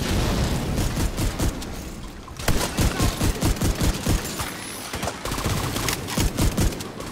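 Rapid bursts of automatic gunfire in Tom Clancy's The Division 2, loud and close, with a steady rattling rhythm of repeated shots broken by short pauses.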